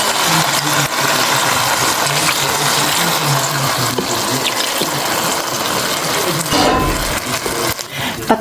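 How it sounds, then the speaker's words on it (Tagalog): Water poured into a pan of cooking pork chops with sauce produces a loud gushing splash and sizzle, followed by stirring clatter, close and without talk. "Lagyan natin konting tubig."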